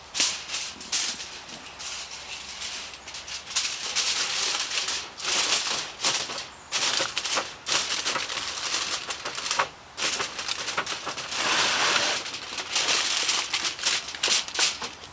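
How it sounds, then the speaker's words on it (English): Beef riblets being wrapped in aluminium foil, close loud crinkling and crumpling in repeated bursts with brief pauses between folds. "just lay it in the foil and wrap it"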